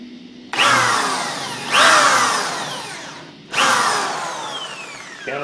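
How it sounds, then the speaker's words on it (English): A power drill with a countersink bit bores into wood, three whirring bursts that spin up sharply and wind down, loud and close, with no talk. "countersink that hole so the head of our screw will sit down below the surface"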